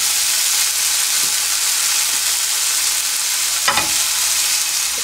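Green onion and garlic fry in a pan for mapo tofu, giving a loud, continuous sizzle and hiss with one sharp knock of a utensil against the pan near the end. No one speaks.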